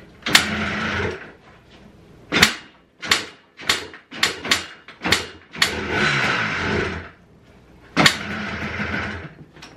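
A Yamaha Blaster ATV engine idles too low, sputtering in uneven, separate bursts that fade to near silence between them, loud and close with nothing else heard.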